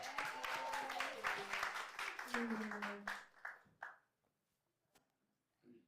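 An audience at a live show claps for the guests, a burst of rapid applause with a voice briefly over it, thinning into a few scattered claps before fading to near silence.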